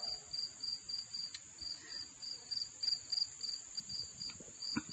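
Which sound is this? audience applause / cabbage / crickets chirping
crickets chirping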